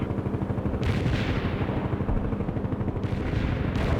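Sustained artillery and gunfire rumble through a World in Conflict battle, a dense, loud wall of overlapping blasts and rattling shots with no break.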